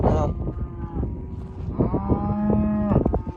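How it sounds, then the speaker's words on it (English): Cattle moo on a Wyoming range, several long, loud, drawn-out calls overlapping from nearby animals, one after another through the moment. "Walking through all the cows right now."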